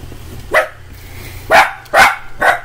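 Copper, a loud dog, barks in four sharp, forceful bursts spaced irregularly across a couple of seconds, close by and dominating a quiet room.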